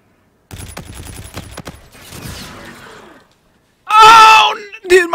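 Gunfire in a first-person shooter game from the Infinite Warfare, Ghosts and Modern Warfare 2 series, a fast rattle of shots and then a loud burst of firing near the end, mixed with game noise and what sound like voices.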